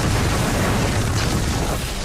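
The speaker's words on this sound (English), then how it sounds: "a series of explosions rocked the streets of Guadalajara" Powerful explosions rip through streets of Guadalajara in 1992, a sustained, dense roar of blast rumble and debris noise filling the whole stretch with no pause, loud and close.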